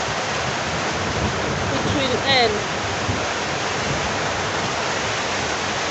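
Heavy rain water floods into a house and runs toward the kitchen, making a steady, loud rushing wash like a stream that fills the whole clip. A person speaks briefly over it.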